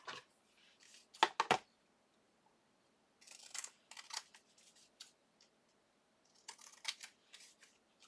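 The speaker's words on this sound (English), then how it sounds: "So just give this one a trim." Scissors trimming a paper Christmas frame made from scraps and stitched rectangle die pieces, with several short quiet snips in separate bursts against near silence.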